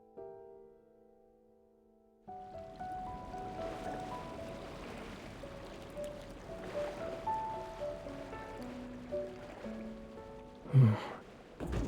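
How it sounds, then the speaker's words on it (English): Night ocean waves in the video game Love and Deepspace wash steadily after a quiet start, with soft game music tones layered over the surf and a louder swell near the end. "Listening to the ocean might help us fall asleep."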